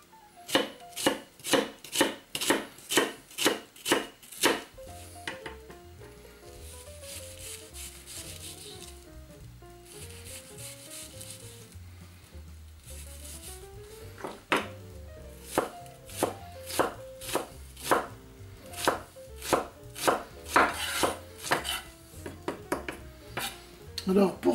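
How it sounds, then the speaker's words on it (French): A knife finely chops shallot on a cutting board in a run of quick, sharp, evenly spaced strikes, then a quieter spell of scraping and light handling, before the rapid close chopping resumes, with soft background music throughout. "On va s'occuper maintenant de ciseler finement l'échalote."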